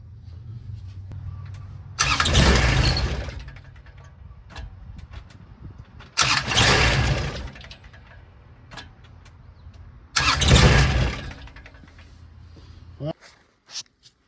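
The engine of a Kubota RTV900 utility vehicle is bumped on the starter three times, each a loud two-second burst of cranking, separated by quieter pauses with faint ticking.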